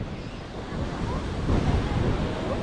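Atlantic Ocean surf washes onto a wide beach, a steady roar of breaking waves swelling slightly midway, mixed with wind buffeting the microphone.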